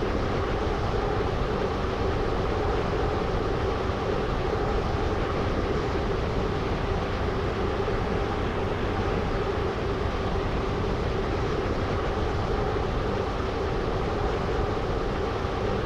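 Train running on the Stepford County Railway video game, a Stepford Connect service, as a steady, continuous broadband rumble and rolling noise that holds evenly throughout with no talk over it.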